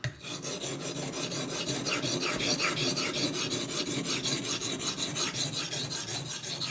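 Steady rhythmic rasping of knife blades being sharpened on a sharpener, continuous strokes close up for the whole stretch with no talk.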